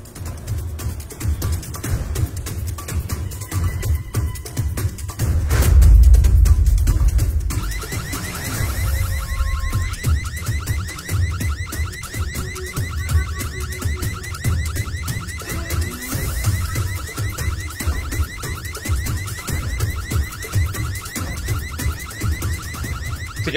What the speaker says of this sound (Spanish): Está sonando la alarma